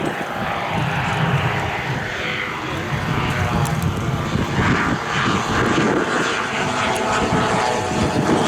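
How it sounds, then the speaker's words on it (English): Large-scale model airplanes with big 85cc two-stroke engines fly past at a scale prop plane meet, a loud continuous buzzing drone that swells and fades over the whole span while people talk underneath. "Lovely sound of those big 85cc two-stroke engines"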